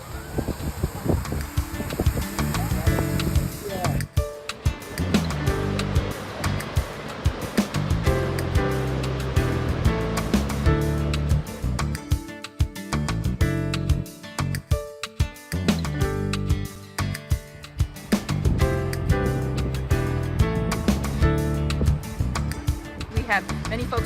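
Waves wash against a fishing harbor in Iceland in the morning, making a continuous rushing, splashing wash with gusts of wind noise on the microphone, under a person talking throughout.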